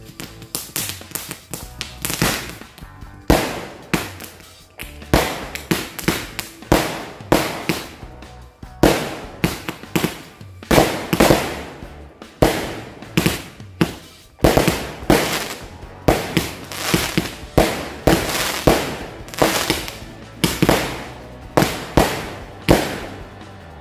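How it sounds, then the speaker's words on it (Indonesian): Rapid bursts from four Roman candle fireworks lit at once, popping one after another for the whole stretch, sharp loud cracks in an uneven, continuous rhythm with no talking. "kita sumet mercon Roman candle sekaligus 4 buah"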